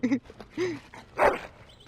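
A dog in Dragon Age: Origins gives a few short yips and barks and then a whimper, close and fairly loud, in separate bursts across two seconds.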